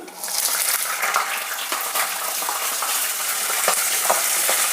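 Chana dal, urad dal and curry leaves fry in hot oil, making a close, steady sizzle with scattered sharp crackles and no voices.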